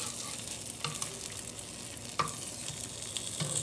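Steady frying sizzle of egg and Spam in a pan, a constant crackling hiss with a few sharper pops and clinks of a utensil, close by and fairly quiet.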